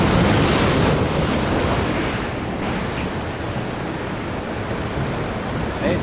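Big ocean waves crash and roar against coastal rocks at an Australian rock-fishing spot, a dense sustained wash of surf with wind buffeting the microphone throughout and no talk.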